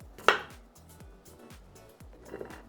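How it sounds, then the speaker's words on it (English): A knife cutting and scraping a shallot on a cutting board, a run of short, evenly spaced knocks and scrapes, close and fairly quiet, with no talk. "I'm just going to cut a shallot."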